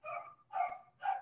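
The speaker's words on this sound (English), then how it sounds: "Sorry about the dog in the background." A dog barks three times in the background, loud and excited, with short pauses between the harmonic barks and no talk over them.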